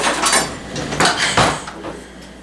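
Metal spatula scraping and clinking against a baking pan while prying out sticky caramel Carmelita bars, several scrapes and taps of metal on metal, close and fairly loud with no talking.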